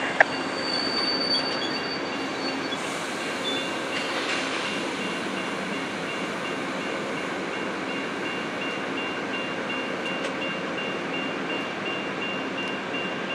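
Eastbound Amtrak No. 6 passenger train at its scheduled station stop in Fort Morgan, Colorado, with a steady rumbling drone of railcars, faint wheel squeals and a few soft knocks, heard from a moderate distance.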